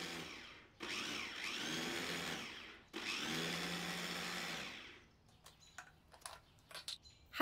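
Blender whirring cheese and vegetable oil into a creamy spread, two sustained motor runs separated by a short pause, followed by quieter clinks and taps once the motor stops.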